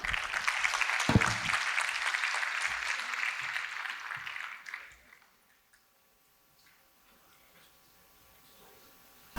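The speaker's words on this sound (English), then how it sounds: "Big round of applause to the chef of the night" Guests at a charity gala in Chicago applaud the evening's chef, a dense round of clapping for about five seconds that fades out into near silence, with faint room noise and a few ticks afterward.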